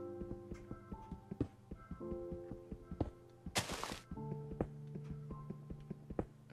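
Stone blocks are mined in Minecraft on Xbox 360, a quiet run of repeated short thunks and taps over soft sustained background tones.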